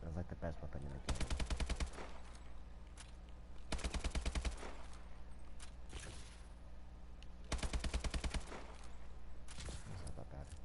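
Automatic weapon fire from a Call of Duty shooter game comes in three rapid loud bursts of several seconds each, separated by quieter stretches of background game noise.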